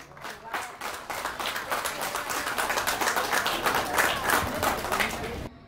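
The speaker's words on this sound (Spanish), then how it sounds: "les suplico que le brindemos fuertes aplausos a Ramona Guadalupe" Enthusiastic crowd applause at a ceremony installing a festival princess in Jacaltenango, Guatemala, loud dense clapping running continuously for several seconds and cutting off abruptly.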